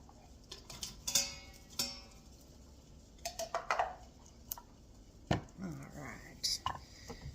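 A knife chops food on a cutting board ahead of going into a pressure cooker, with scattered irregular taps and knocks, close and fairly quiet, plus a few clinks of utensils.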